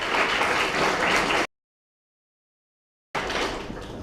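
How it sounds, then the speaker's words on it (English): A meeting audience at a Chief of Staff Association chapter gathering in Nairobi breaks into a dense, steady round of applause that stops abruptly, falls silent, then resumes just as loudly. "you need to give her another round of applause"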